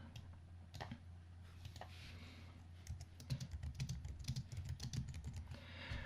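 Someone types on a computer keyboard while coding HTML and CSS in a text editor, with sparse clicks at first, then a rapid, close run of keystrokes over a faint low hum.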